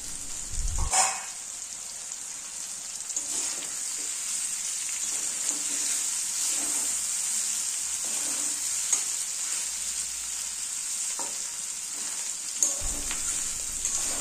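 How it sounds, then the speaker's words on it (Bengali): Potatoes, gourd stalks and ridge gourd fry in a covered pan, giving a steady close-up sizzle throughout, broken by a couple of brief knocks near the start and end. "এভাবে ঢাকা দিয়ে আলু ও ডাঁটাগুলিকে ভালো করে কষিয়ে নেব"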